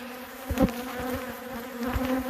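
Bees hum steadily around a hive, a continuous close drone with individual insects buzzing past the ear now and then, loud and without talk.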